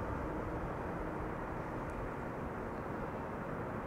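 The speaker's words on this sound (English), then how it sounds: "That's a 787-10." A Boeing 787-10 widebody airliner of KLM, arriving from LAX onto runway 06, rumbles as a steady, fairly loud broadband jet roar that holds evenly throughout with no voices.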